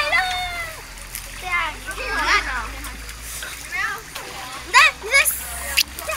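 Water splashing and spraying at a water park, loud bursts of spray and splatter over children's excited voices and chatter, with sudden louder splashes toward the end.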